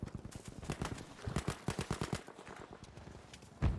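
Rapid gunfire bursts crackle through a Battlefield V firefight, steady volleys of sharp shots with brief gaps and a heavier thump near the end, fairly loud and close.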